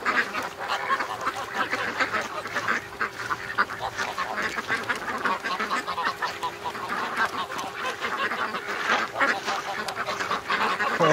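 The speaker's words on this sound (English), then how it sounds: "Oh, the little duckies." A small flock of ducks quacks and honks steadily, with overlapping calls close by in a continuous, busy chatter.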